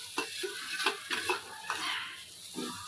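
Grated coconut stirred in a pan over a gas stove, a spoon scraping the metal in several close, rhythmic strokes with a faint dry sizzle underneath.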